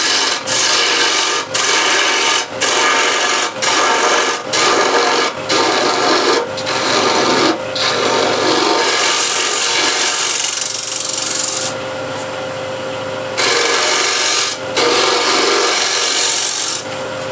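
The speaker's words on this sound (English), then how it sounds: "I like to use small spindle gouge here." A small spindle gouge cuts wood on a lathe, making loud, close scraping and rasping shear cuts. The cuts come in rhythmic repeated passes with brief pauses between strokes, and there is no talk.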